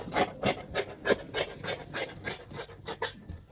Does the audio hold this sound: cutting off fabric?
yes